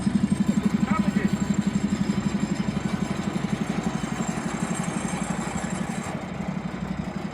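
A Land Rover diesel engine idles close by with a rapid, even chugging pulse that holds steady throughout, while people talk briefly nearby.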